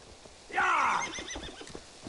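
A horse in the video game Assassin's Creed Valhalla gives one loud, clear whinny lasting about half a second, followed by quieter soft thuds and faint background movement.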